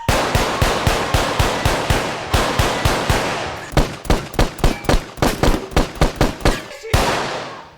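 Loud, rapid gunfire from a film action scene rattles close by in a steady, repeated stream of shots, with a brief break partway through and a faint echo at the end.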